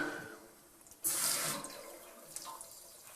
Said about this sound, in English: water's still coming out